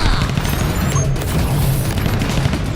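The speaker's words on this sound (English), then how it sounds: "Target spot. Flashbang out." A flashbang grenade detonates amid a tense tactical shooter firefight, a sustained loud burst of blasts, crackling gunfire and clattering debris filling the whole stretch without letup.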